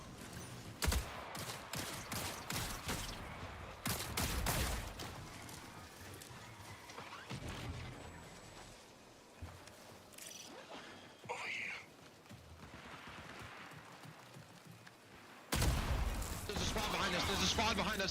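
Rapid bursts of gunfire crackle through a Bungie extraction shooter game, coming in loud clustered volleys with short lulls between, while players talk over the shooting.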